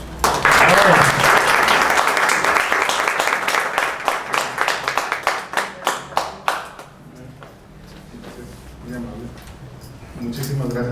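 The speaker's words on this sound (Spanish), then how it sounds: "para quien pido un caluroso aplauso" An audience at a medical lecture in Mexico gives warm applause, dense clapping that tapers to a few last claps and then a quiet room.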